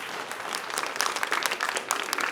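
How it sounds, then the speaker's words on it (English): An audience applauds quiz contestants at a varsity school quiz match, a steady, dense clapping that sustains at a fairly loud level and then swells slightly toward the end. "give these kids a round of applause"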